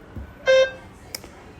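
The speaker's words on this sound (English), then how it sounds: "Begin speaking after the beep." A single short electronic prompt beep sounds in a TOEFL speaking practice test, a clean tone with harmonics lasting a fraction of a second, alone and fairly loud.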